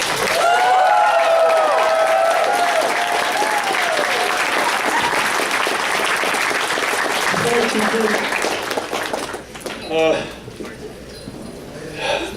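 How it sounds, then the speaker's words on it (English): Audience gives the Kalerati a lively round of applause with cheers and whoops, loud sustained clapping that tapers off near the end as scattered voices take over. "Guys, let's give the Kalerati a round of applause."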